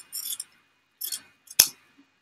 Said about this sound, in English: I'm just going to cut down in between the little pockets